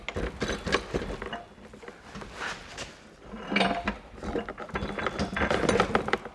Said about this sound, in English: all I did there was I was turning the back shaft here just to turn the gears to help line it up